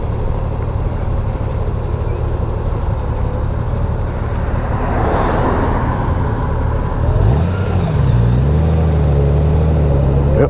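A 2018 Honda Gold Wing motorcycle pulling away from a stop in second gear, engine drone steady and close with wind noise, rising in pitch as it accelerates near the end.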